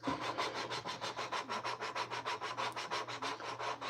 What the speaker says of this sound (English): grind down these valves to get them to seat good